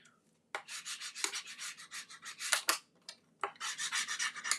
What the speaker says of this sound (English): And then you're just going to rub it down.